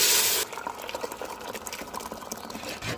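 Chili, garlic and five-spice hit hot oil in a dal tempering. A loud hiss bursts in, then drops to a steady bubbling sizzle with small crackles, and nobody speaks.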